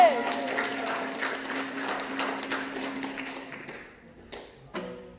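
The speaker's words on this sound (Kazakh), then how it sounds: "Бізге де бір шапалақ соғып қойшы." An audience at a school aitys contest applauds in a dense burst of clapping under a voice, then the claps thin out and die away to a few scattered taps.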